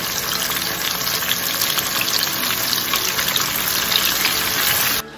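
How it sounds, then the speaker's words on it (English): Chicken frying in a pot of oil at 325 degrees gives a loud, steady, dense sizzle that continues without a break for about five seconds and then cuts off. "you're gonna be frying it on 325"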